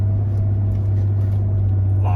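An INEOS Quartermaster truck drives along the beach on Assateague Island, heard as a steady low engine and cabin drone, continuous and close, with no distinct events.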